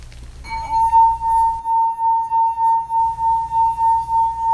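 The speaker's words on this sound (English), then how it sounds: "You can hear how the sound produced is different in each glass." A water-filled drinking glass gives off a sustained, steady ringing tone with a gently pulsing loudness, like a wet fingertip circling the rim, heard alone and close.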